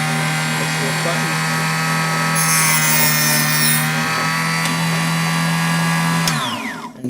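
A tabletop power cutter slices through a 3D-printed PLA part for diorama trim, giving a steady loud motor whine with a gritty cutting rasp that rises midway, then the motor winds down at the end.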